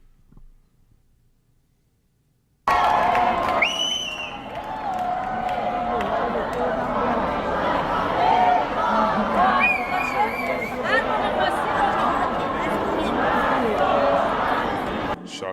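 A large outdoor crowd protesting the Iranian regime in Los Angeles fills the air with loud, continuous chatter and shouting, starting abruptly and holding steady, with voices rising above the babble.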